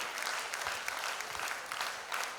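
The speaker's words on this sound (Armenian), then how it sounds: "Ծափահարենք այս տաղանդավոր բալիկներին" An audience applauds young pupils of a folk ashugh song school at a concert in Vardenis, with steady, dense clapping filling the hall for a couple of seconds without any voices.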